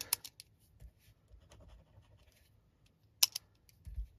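Soft scratchy strokes of a colored pencil on paper in short bursts, quiet and close, with a sharper scrape near the end; no talking.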